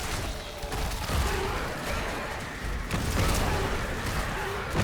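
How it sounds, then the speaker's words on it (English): Corpse Explosion skill from a Necromancer in Diablo Immortal, dense bursting booms and crackling blasts packed together over busy game combat noise, loud and continuous with rolling impacts. "Oh, Corpse Explosion is so good."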